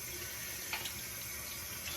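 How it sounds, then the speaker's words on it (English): A bathroom tap runs steadily as a sponge for a cleansing balm is soaked under the stream, giving a continuous hissing splash with a small bump of splatter partway through. "As I make a whole mess trying to soak the sponge."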